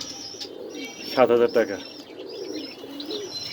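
A large breeding pair of pigeons coos nearby in a short burst of throaty, rolling notes amid faint chirps, with someone talking over the birds.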